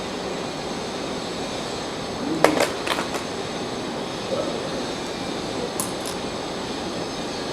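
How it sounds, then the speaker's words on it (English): Construction work outside: a constant rumbling roar heard through the room, with a few sharp metallic clanks and knocks midway and near the end, with no talking. "Sorry about the noise from the construction outside."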